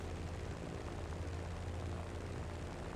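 A propeller airplane engine drones steadily in Just Cause 3, a constant low hum with no breaks, at moderate level and heard alone.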